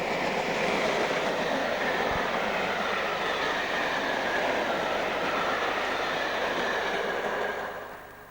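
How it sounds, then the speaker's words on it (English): Class 86 electric locomotive 86417 rolls past hauling an empty mail train in 1990s Britain, a loud sustained roar of passing rail vehicles that fades near the end. "86417 works an empty mail train from Euston to Warrington"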